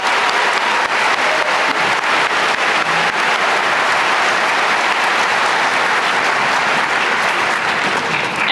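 A large audience at a high school commencement ceremony gives student musicians a loud, continuous round of applause, close and dense from start to finish.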